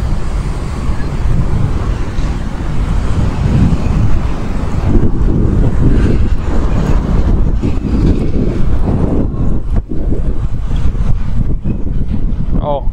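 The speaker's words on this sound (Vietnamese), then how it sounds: "Và anh chị nghe tiếng gió lùa." Strong wind gusts buffet the microphone on a late-night street in a wealthy residential area of Phu My Hung, District 7, a steady loud roar with rumbling surges throughout and no speech.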